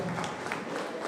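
Audience clapping at a teachers' felicitation and alumni reunion ceremony, a dense steady wash of applause lasting about a second with no break.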